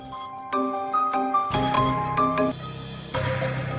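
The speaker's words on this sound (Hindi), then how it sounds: "ये तुम्हारा फोन हर वक्त क्यों बजता रहता है भाई?" A phone plays a chiming electronic ringtone, a bright repeating melody that sounds close and continues steadily through the whole clip.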